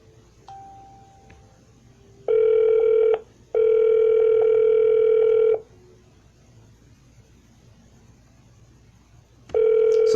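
Telephone tones from a real estate prospecting dial session: a faint dial tone, then two loud steady ringback tones of about one and two seconds with a pause between, and a third starting at the end.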